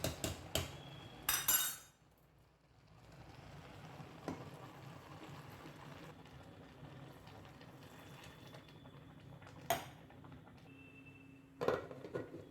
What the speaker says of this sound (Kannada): ಸೊ ಇವಾಗ ಒಂದು 2 ಗ್ಲಾಸ್ ನೀರು ಹಾಕಿ ಕುಕ್ಕರ್ ಮುಚ್ಚಳ ಹಾಕೋಣ